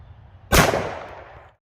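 A single loud .45 GAP pistol shot fired into ballistic gel at close range, a sharp blast that decays into a short rolling echo over about a second.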